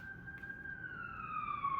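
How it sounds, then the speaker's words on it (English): A siren wails faintly in the distance, a single sustained tone slowly sliding downward in pitch. "anytime I hear the"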